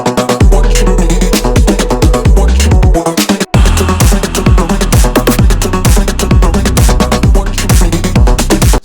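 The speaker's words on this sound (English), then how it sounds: "how to make the quiver, stutter, house music, vocal effect" Loud, punchy house music with a rhythmic kick and a vocal chopped into rapid stuttering repeats, with a brief dropout near the middle.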